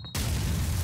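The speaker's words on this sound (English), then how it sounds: "that nade was accurate" Sudden heavy boom of a grenade blast in Call of Duty 4 on the Crash map, a deep close burst that erupts after near silence and sustains its low rumble to the end.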